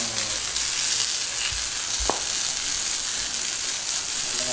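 A homemade portable pressure washer built from a tank sprays water in a steady, loud broadband hiss that runs the whole time, with a brief knock partway through and no voices.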